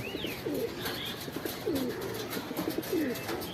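A pigeon courting on a rooftop gives several rolling, throaty coos in repeated bursts, close and moderately soft, with faint higher bird calls and outdoor ambience behind.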